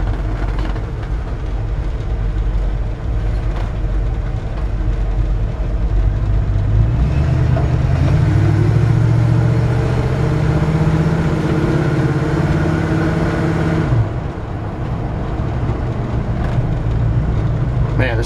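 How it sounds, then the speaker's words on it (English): A 1967 Chevrolet C-10 pickup engine and exhaust heard from inside the cab while driving, a steady low rumble that swells louder for several seconds as it pulls, then settles back to a constant drone. "Awesome sounding exhaust."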